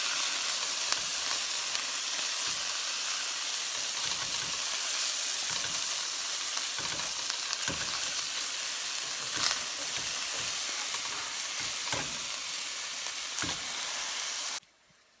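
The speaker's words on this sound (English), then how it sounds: "I'm going to go ahead and flip the patties." Turkey burger patties sizzling in a pan, a steady close hiss with occasional spatters and utensil knocks that cuts off abruptly at the end.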